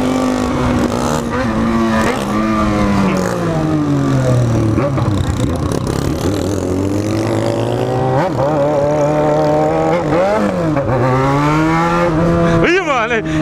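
A Yamaha XJ6 motorcycle revs hard and close, its engine pitch climbing and falling in repeated surges with a continuous loud roar, and a voice shouting over it.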